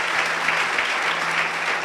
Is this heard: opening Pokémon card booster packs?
no